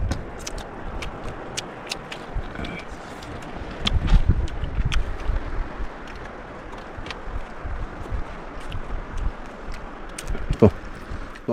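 Gusty wind buffets the microphone in uneven bursts, with scattered clicks and knocks over a low outdoor rumble.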